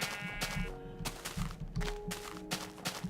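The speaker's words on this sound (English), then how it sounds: "Ooh, gray sheep." Gray sheep in the video game Minecraft bleat a few times in short, nasal calls over soft background game music and a dull thunk or footstep.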